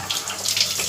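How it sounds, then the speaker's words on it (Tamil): Water splashes and runs as a mixer jar is rinsed and water poured in while cooking chicken sambal, a brief, close trickling wash. "இப்போ அதை ஜார் அலசி கொஞ்சம் தண்ணி ஊற்றிக்கிறேன்."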